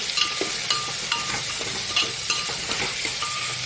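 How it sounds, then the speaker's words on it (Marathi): Coriander sizzles loudly and close in a hot oil tempering, with a series of regular stirring clinks and scrapes, a few every second, and no talking. "आता कोथिंबीर पण ह्याच्यात टाकून घेते"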